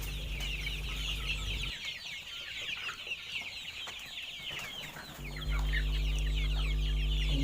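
Chickens kept in a small backyard poultry coop cluck repeatedly, their calls overlapping over a low steady background hum that drops out briefly in the middle.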